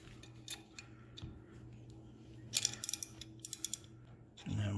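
Fittings are tightened on a 1966 Pontiac Catalina wagon, giving close, crisp ratcheting clicks in quick bursts over a quiet garage background.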